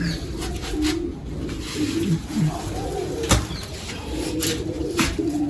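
Pigeons coo in soft, repeated rolling calls close by, with a faint background hum and a brief sharp knock midway.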